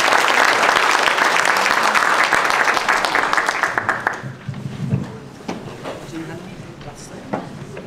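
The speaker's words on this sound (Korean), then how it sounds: "나오실 때 큰 박수 부탁드립니다." Steady applause from a church congregation fills the first four seconds as a pastor is welcomed to speak, then fades into scattered claps and quiet room noise.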